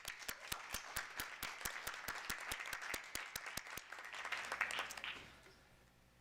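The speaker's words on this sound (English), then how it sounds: "Another round of applause." Applause at a school board of education meeting, a handful of distinct sharp claps in a steady rhythm joined by scattered softer clapping from a small room, tapering off after about five seconds.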